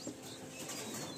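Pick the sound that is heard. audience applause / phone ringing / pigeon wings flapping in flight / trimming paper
pigeon wings flapping in flight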